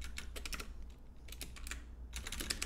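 Rapid keystrokes on a computer keyboard while entering an SQL Server sorting query, coming in quick clustered bursts with brief pauses, close and fairly quiet over a steady low hum.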